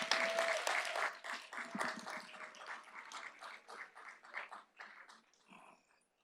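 A live poetry slam crowd applauds a poet just after her score is announced, with dense clapping and some cheers that fade gradually across several seconds.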